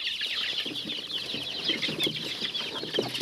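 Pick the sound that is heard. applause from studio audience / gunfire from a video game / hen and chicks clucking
hen and chicks clucking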